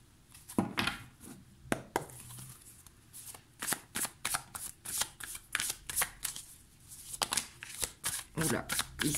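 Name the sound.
shuffling oracle cards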